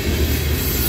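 A Norfolk Southern freight train hauling tank cars, including vinyl chloride tankers, rolls past in Creighton, Pennsylvania with a loud, steady rumble and clatter of wheels on rail, close by and without talk.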